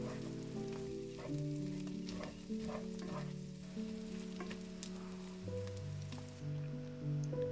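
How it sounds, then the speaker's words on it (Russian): Chopped onion frying with minced meat in a pan, a steady close sizzle with intermittent soft stirring scrapes, heard alone over a faint background hum. "Теперь отправляю лук прямо к фаршу, аккуратно перемешиваю и обжариваю еще пару минут"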